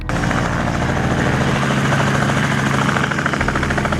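A helicopter flies over Port Canaveral on a hot day, making a loud, continuous rotor roar with a rapid chopping pulse. It stays close and strong throughout, with no talking.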